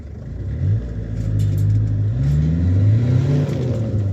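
A small car with a 1.8 litre engine revs hard near the top of its rev range, a loud close rumbling drone rising and holding steady without speech.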